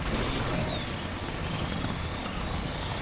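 A vehicle driven across a planet's surface in Mass Effect Legendary Edition produces a continuous loud engine roar with a faint whine sliding downward near the start.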